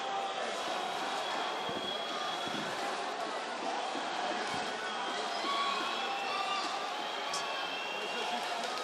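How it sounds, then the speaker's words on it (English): Egyptian football fans in a corner of the stadium cheer and chant for Mohamed Salah during an AFCON 2024 match against Mozambique, a dense, steady crowd roar filling the whole stretch without letting up. "the Egyptian fans who are in this nearest corner to the corner flag serenade and greet and cheer their hero Mohamed Salah"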